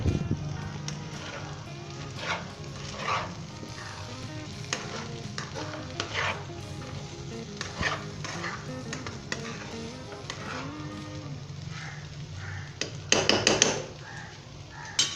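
Bengali aloo gobhi with green chillies and coriander is stirred in a pan, with a continuous moderate sizzle, repeated light scraping and clinking of a spoon against the pan, and a louder burst of clatter near the end.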